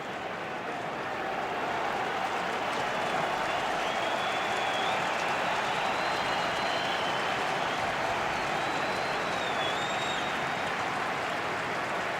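A baseball stadium crowd at a Red Sox–Yankees game rises and cheers steadily on a two-strike pitch in the first inning, a dense, sustained roar filling the whole stretch with a faint whistle or two above it.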